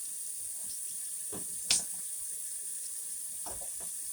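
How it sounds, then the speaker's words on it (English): Water runs from a tap into a kitchen sink, a steady faint hiss with a sharp splash or knock partway through, as a bucket of pork chitterlings and water is emptied into the basin. "We're going to take this bucket of chitterlings and we're going to pour it into the sink."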